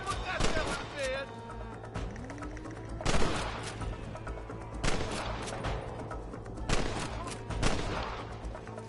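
Video game shootout gunfire, repeated loud bursts of shots in clusters every couple of seconds, with voices talking between volleys.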